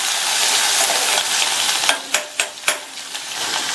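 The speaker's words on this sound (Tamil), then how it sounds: "இப்போ இந்த வெங்காயத்தை லைட்டாக ஒரு 1/2 நிமிஷத்துக்கு மட்டும் வதக்கி விட்டுக்கலாம்." Chopped onions sautéed in a hot pan, a loud continuous sizzle followed by several sharp stirring scrapes in quick succession near the end, close and alone.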